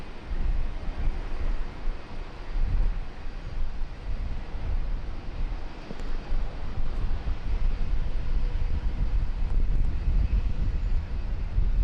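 Airliner at Brisbane Airport making a quick departure, a steady broadband jet roar that stays loud and fairly constant throughout, with low rumble and no voices.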